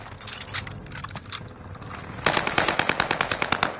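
Automatic weapon fire in Call of Duty: Warzone, with scattered shots and then a loud, rapid, evenly spaced burst, close and dominant.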